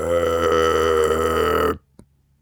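A pink bird in a children's story lets out one loud, drawn-out burp lasting under two seconds, followed by a short faint click after a pause.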